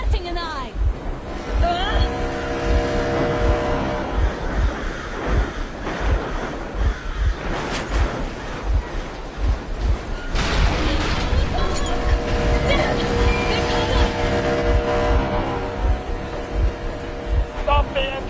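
A vehicle engine in Metro Exodus rumbles steadily throughout, a loud, continuous low drone with rhythmic pulsing and occasional whooshing noise on top.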